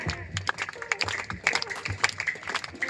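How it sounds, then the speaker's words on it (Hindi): Audience claps steadily through a school Christmas celebration at St. Joseph's Inter College in Torpa, Ranchi, a dense, continuous patter of many hands with faint voices mixed in. "ताली बजती रहनी चाहिए।"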